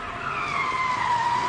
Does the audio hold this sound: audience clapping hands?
no